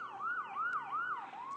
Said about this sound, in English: Sirens all the time.